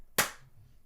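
A single sharp, dry 808 drum-machine clap, loud and close, with a quick decaying tail into near silence.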